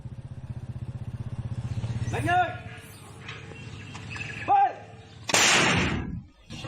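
Sharp, loud bursts of gunfire and heavier booming cannon blasts from an army clash in Maguindanao, Philippines, ring out over a steady rumbling engine drone, with a long roaring report near the end.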